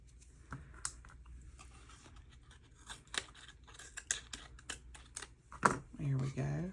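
Paper being cut with scissors while making a junk journal, a few short snips and crisp crunches spread irregularly across the clip, close and moderately loud, with quieter handling rustle between them.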